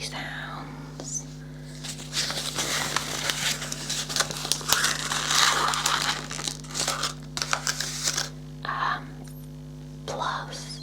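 Paper is crumpled and scrunched close to the microphone in bursts of crinkly crackling, with soft whispery noises between handfuls.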